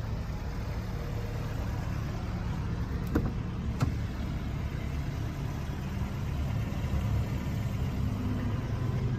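A Jeep engine idles steadily at a car dealership, a low, even rumble with faint broadband noise and a couple of brief clicks, with no talking over it.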